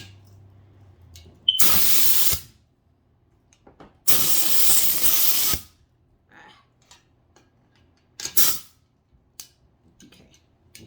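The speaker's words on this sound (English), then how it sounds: "spray it with glue" Glue spraying from a spray gun onto a wheelchair armrest, in three bursts of loud hiss: two long sprays of roughly a second each, then a shorter burst, with quiet gaps between.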